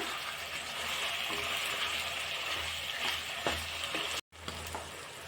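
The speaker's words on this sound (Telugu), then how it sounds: "వెల్లుల్లి కారం అయితే బాగా ఆయిల్లోనే మగ్గింది" Garlic chili powder sizzling in hot oil with chicken in a pan, a steady close frying hiss with occasional stirring scrapes and a brief cut near the end.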